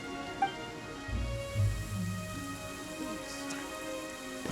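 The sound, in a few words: magical storm barrier wind and rain in video game Genshin Impact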